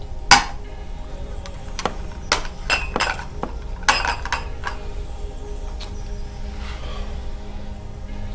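Dishes are cleared away with sharp, scattered clinks and knocks of plates and cutlery, several distinct hits over a steady background hum, with no speech over them.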